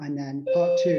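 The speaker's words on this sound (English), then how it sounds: "that's the doorbell." Doorbell chiming indoors during a talk, a two-part electronic ding-dong tone heard close under a man's ongoing speech.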